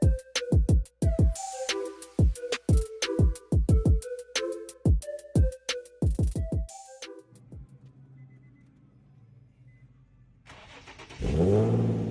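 Series of sharp engine revs from a Nissan 350Z with a Nismo S-Tune exhaust and white pipe, blipping repeatedly over a deep idle, loud and close, followed by a steady rumbling idle and a final rising rev.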